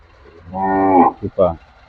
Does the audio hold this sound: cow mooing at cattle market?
yes